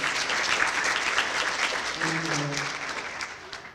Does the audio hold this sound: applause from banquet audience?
yes